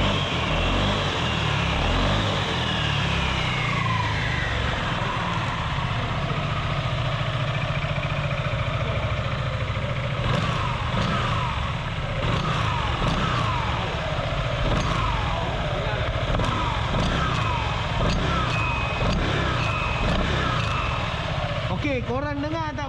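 A Yamaha XMAX 250 scooter fitted with a tech pulley runs at a steady idle nearby, its continuous engine drone holding for over twenty seconds, with voices now and then over it.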